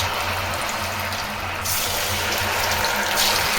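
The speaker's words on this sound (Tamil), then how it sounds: "எண்ணெய் ஊற்றிட்டு இப்போ நல்லா சூடாக இருக்குது. நம்ம ஒரு பீஸாக சின்ன பீஸாக போட்டுடலாம்." Small chicken pieces fry in hot oil in a kadai with a continuous loud bubbling sizzle, a rushing hiss that stays steady and close throughout.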